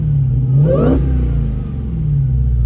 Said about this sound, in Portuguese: esses carros com motor Supercharger, eles têm 2 barulhos de motor